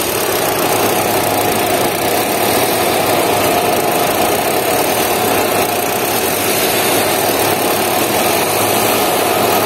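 Kia Sonet 1.2 petrol manual engine idling with the air conditioning on, a steady loud mid-pitched hum and vibration running unbroken from start to end, no speech.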